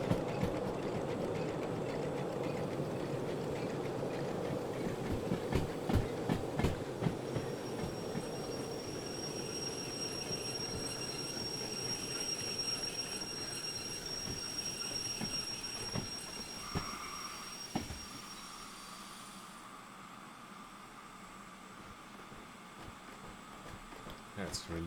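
Train rolling and braking in the Derail Valley simulator on a foggy morning, steady rumbling and clickety-clack with sharp clanks and a high squealing brake tone that fades as the train slows and settles, a voice talking over it at times.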